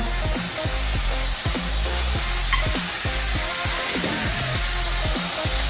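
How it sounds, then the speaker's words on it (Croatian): Bacon sizzling and frying in a hot pan, a loud continuous crackle with rhythmic scraping and stirring strokes repeating every half second or so; no voices. "Sad ćemo staviti ovo na početku slaninu."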